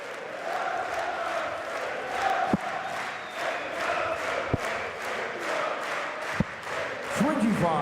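A 3,500-strong darts crowd at the 2017 European Darts Trophy sings a chant in a continuous, roaring mass of voices filling the arena, with a few sharp thuds cutting through.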